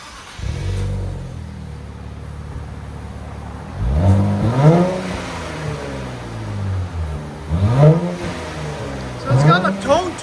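A maroon 2023 Nissan Z with its 3.0L twin-turbo engine and stock exhaust revs in three sharp, rising-and-falling blips from a low idle, close and clean-toned, with a voice briefly heard nearby.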